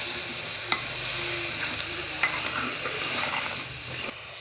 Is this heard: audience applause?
no